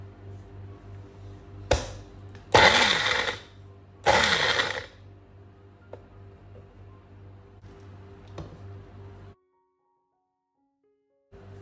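Green chillies, garlic and salt being crushed in a kitchen mixer jar: a quick tap, then two short loud whirring bursts a second or so apart, followed by faint clicks and quiet.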